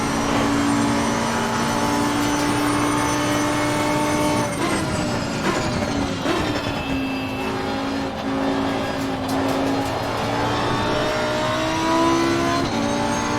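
Race car engine in Assetto Corsa Competizione at Monza, revving hard and shifting through gears near Parabolica with a rising, falling whine, loud and continuous with no talk.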